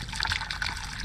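Tap water pours through the radiator of a 2007 Kawasaki ZX10R motorcycle during a coolant flush, a close, steady trickling and splashing with small gurgling bursts and no talk.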